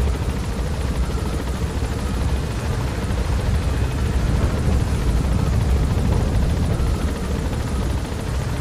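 Helicopter in Metal Gear Solid V: The Phantom Pain, a steady, loud rotor and engine roar that runs unbroken and close throughout, with no voices over it.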